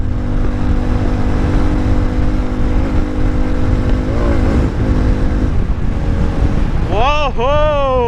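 A Harley-Davidson X440 motorcycle pulls steadily in fifth gear with a sustained engine drone under heavy wind buffeting, while a rider talks briefly and a rising and falling whine comes in near the end.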